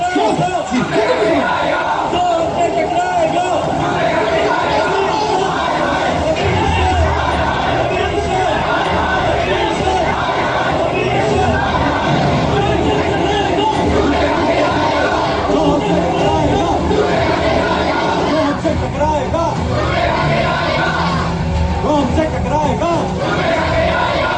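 A large crowd in a Hindi film scene shouts and chants continuously, dense and loud throughout, with voices overlapping into a roaring babble.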